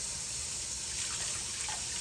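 Tap water runs steadily into a kitchen sink during handwashing, a constant close hiss and splash with no speech over it.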